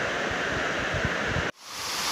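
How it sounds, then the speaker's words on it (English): A cascading mountain waterfall on a trail up Moosilauke gives a steady broadband rush of falling water, close and even. It cuts off abruptly near the end, then returns more softly. "the whole way up the mountain so far has just been this cascading waterfall"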